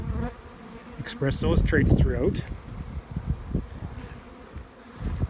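Honey bees hum and buzz steadily around an open hive while a person talks over them, with some rustling and wind in the background.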